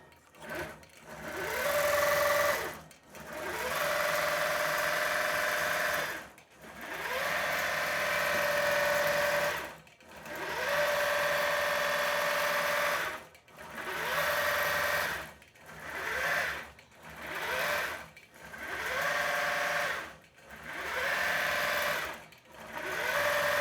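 A longarm quilting machine stitches along the border of a finished quilt, its steady mechanical whirring running in long bursts that stop briefly and restart, close and alone with no talk.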